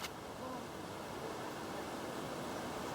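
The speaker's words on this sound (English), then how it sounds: "we're trying to find this waterfall, and we can hear it as we're in an open clearing now" Small cascading waterfall in Nattai Gorge, heard from an open bush clearing as a steady, even rush of falling water, moderately distant and unbroken throughout, with no voices over it.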